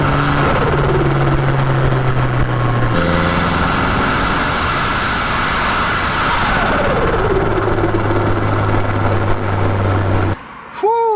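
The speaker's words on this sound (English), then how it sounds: "Richard's letting me drive his Silvia" Nissan Silvia with an SR engine revved hard on a road drive, a loud continuous roar climbing and shifting pitch through gear changes before cutting off near the end.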